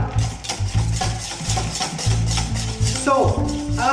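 Soufflé glacé mix with Grand Marnier stirred in a basin set over ice water, with a whisk or spoon scraping steadily around the bowl in a close, continuous rhythm under low background music.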